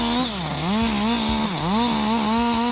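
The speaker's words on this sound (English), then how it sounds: "881 chainsaw took quite a bit of time and may have disturbed the neighbors a bit." A chainsaw cutting wood, its engine droning loud and close with the pitch dipping twice as the chain bogs down in the cut and then recovering, heard alone.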